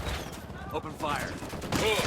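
Rapid automatic gunfire bursts in a Ghost Recon Wildlands firefight, sharp and loud, with some overlapping voice chatter.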